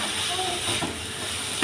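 Vegetables for an egg roll filling fry in a pan with a steady, close hissing sizzle and a brief scrape near the end.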